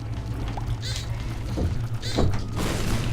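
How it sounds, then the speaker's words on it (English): Several muffled, booming thuds burst from explosions in The Binding of Isaac, arriving in quick irregular succession over a low background hum. "Ooh, good explosions, very nice."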